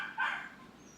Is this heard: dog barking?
yes